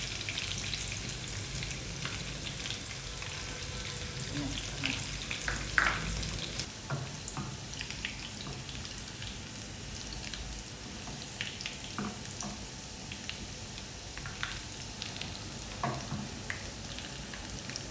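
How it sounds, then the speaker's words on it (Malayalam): Chopped shallots and green chillies sizzle in hot oil after mustard seeds have popped, a continuous close crackling hiss with scattered sharper spits and pops throughout, no voices over it. "കടുക് പൊട്ടി നമുക്കതാ ചുമന്നുള്ളി അരിഞ്ഞ് വെച്ച് കൊടുക്കാം"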